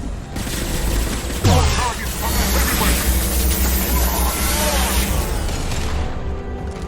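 Impact-shot gunfire in the video game Mass Effect 2, a dense loud fusillade of blasts and booms with a sharp heavy hit early on, layered over constant battle noise and a voice calling out.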